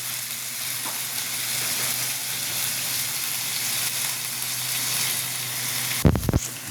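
Ingredients for goat caldereta sautéing in a hot pan, a steady broad sizzle throughout, with a brief stirring clatter near the end.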